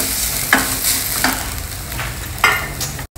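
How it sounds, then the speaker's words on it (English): Fresh grated coconut is stir-fried in a pan, giving a steady close sizzle broken by a few sharp scraping stirs, without any talk. "now we'll add our fresh grated coconut and stir fry everything together for a couple of minutes"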